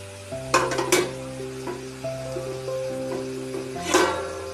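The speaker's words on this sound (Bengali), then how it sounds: "এরপর আমরা দিয়ে দেব পনিরের টুকরোগুলো।" Paneer pieces dropped into butter in a pan, sizzling steadily with a few sharp clinks and scrapes of a utensil against the pan, while quiet music plays underneath.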